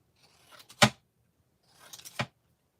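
Two crisp snips of large scissors cutting, each a short rustling build-up ending in a sharp chop, about a second and a half apart.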